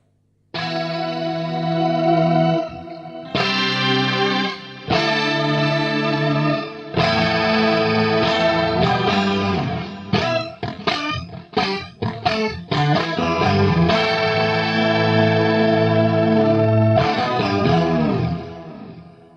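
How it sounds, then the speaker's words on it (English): An electric guitar runs through chorus, an octave-up pitch shifter, delay and reverb, ringing out in long shimmering sustained notes, then a stretch of quicker choppy phrases, then sustained chords again, loud and close with no talking. "I'm using chorus, and then I'm putting, with the pitch shifter, there's a pitch shifter in here, I'm putting an octave above the actual note"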